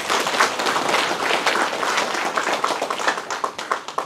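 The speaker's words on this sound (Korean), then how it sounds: "우리 깻잎 농가들한테 큰 박수 좀 한번 쳐주세요." Audience clapping for sesame leaf farmers at a Geumsan county briefing, a dense, steady patter of many hands that thins toward the end into more distinct individual claps.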